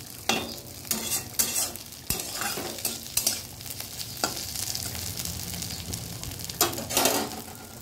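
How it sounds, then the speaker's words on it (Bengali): Ivy gourd (kundru) frying in a pan, a soft continuous sizzle broken by repeated scraping stirs of a spatula, close and moderately loud, with no one speaking. "ওদিকে দেখো কুঁদরুই ভাজাটা হয়ে এসছে,"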